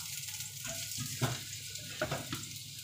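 Crushed preserved garlic sizzling in a pan for beef soup noodles, a steady close frying hiss with a few stirring scrapes and soft bumps.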